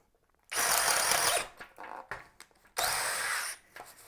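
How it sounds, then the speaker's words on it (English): A DeWalt 12V Xtreme drill bores a 1/2-inch twist bit into a pine 2x4, with two loud, close whirring runs of about a second each separated by a stretch of quieter, uneven grinding. "Let's see how it does with this 1/2-inch twist bit."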